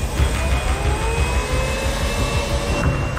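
A fighter jet engine spools up at startup, a loud, steady roar with a rising whine layered over rumbling low noise throughout.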